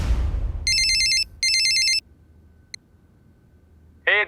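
A telephone rings with two electronic trilling bursts, clear and loud after a dull thud, followed by a click and the start of another tone.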